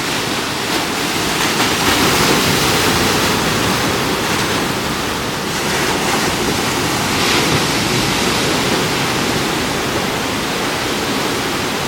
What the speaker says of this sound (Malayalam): അപ്പോൾ ഇത്രയും നല്ല തിരയുണ്ടാവും കടലിൽ.